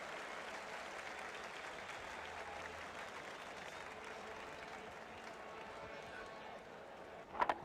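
A large stadium crowd at a cricket match cheers and applauds a six, producing a steady, distant roar of clapping and voices that holds for several seconds before fading slightly.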